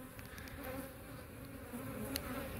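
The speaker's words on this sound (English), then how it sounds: "real strong colony of bees." A strong colony of honey bees drones steadily and close by, a dense, continuous buzz that holds at an even level throughout with no voices.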